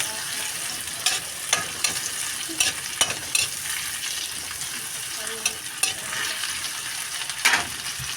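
Green shell mussels with tomato cook in a pan, giving a continuous hissing bubble and sizzle broken by scattered soft clicks and stirring taps, close and even throughout.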